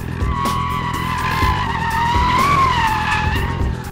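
Loud, sustained tire squeal over a roaring engine at a track day, a long wavering screech as a car slides, continuous for several seconds.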